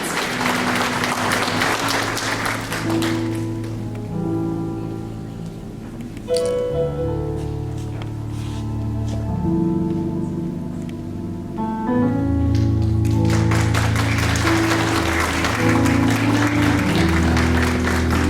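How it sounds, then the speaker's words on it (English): Audience applause for the debutante queen at a debutante ball: clapping fills the opening seconds, gives way to sustained music through the middle, then returns strongly for the final stretch. "Let's give her a round of applause."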